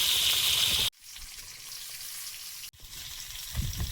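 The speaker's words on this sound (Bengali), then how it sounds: "পনিরটা ভেজে নেব।" Loud crackling sizzle of paneer frying in hot oil, close up, interrupted by two abrupt cuts before the sizzling resumes more softly.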